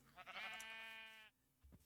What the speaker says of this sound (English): We've got the sheep here.